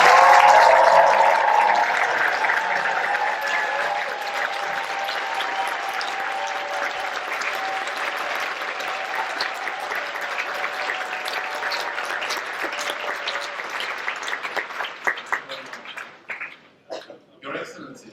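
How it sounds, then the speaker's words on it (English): Audience applause welcoming a peace education teacher at an HWPL World Peace Tour event in Romania, a dense burst of clapping strongest at the start that thins and fades over about eighteen seconds, with a voice speaking over it. "Let us welcome him with a big round of applause."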